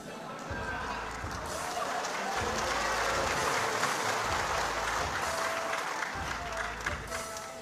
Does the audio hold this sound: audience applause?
yes